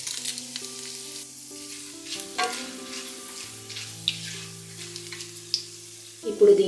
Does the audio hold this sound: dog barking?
no